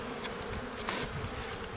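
A swarm of honeybees buzzes around their beehives in an apiary, a dense, steady droning hum close by with no voices.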